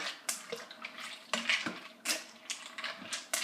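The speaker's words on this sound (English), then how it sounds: "And then I'm just going to give this a little stir." A utensil stirs sausage and bacon in the metal pot of a Cosori 6-quart pressure cooker, making close, irregular scraping and clinking sounds in short bursts.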